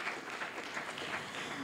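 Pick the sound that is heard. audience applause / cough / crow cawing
audience applause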